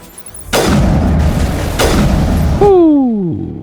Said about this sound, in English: that's a grenade up there